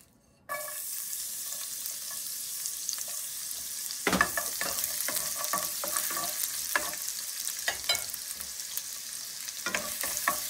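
Garlic hits hot olive oil and frying starts with a sudden sizzle, then crackles and spatters steadily alongside scraping stir strokes in a pan, close and continuous for about ten seconds.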